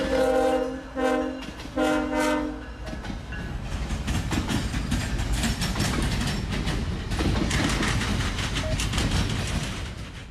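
A loud train horn sounds in long blasts at the start, then a heavy CSX intermodal freight train rumbles and clatters steadily past, close by, in Cordele, Georgia.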